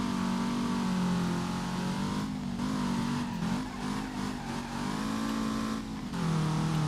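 A Beta Monte Carlo in the BeamNG driving game, running a new SimpleNG mod engine sound, drones loudly and steadily, its pitch rising and falling through gear changes, with short dips where the throttle lifts.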